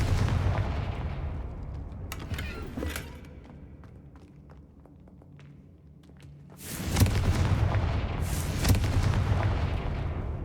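Confringo blasting spells in the Hogwarts Legacy game: heavy booming explosions with rumbling debris, a burst at the start, a quieter lull, then another loud, long blast.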